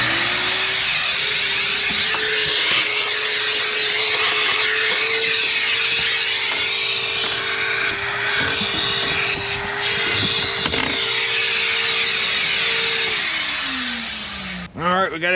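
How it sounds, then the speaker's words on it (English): A vacuum cleaner drones loudly and steadily while cleaning out the cabin air filter housing of a Honda Odyssey, its motor pitch dropping as it winds down at the end. "Alright, we got everything vacuumed."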